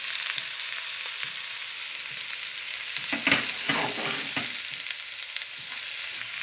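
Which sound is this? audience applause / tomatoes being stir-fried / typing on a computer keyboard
tomatoes being stir-fried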